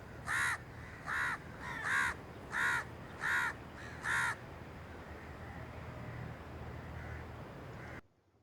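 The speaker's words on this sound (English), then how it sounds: "A crow caws." A crow caws six times in a steady series of harsh, loud calls spaced about a second apart, then falls silent against a faint background hiss.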